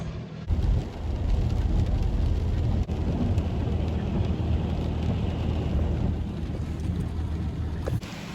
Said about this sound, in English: So it's rainy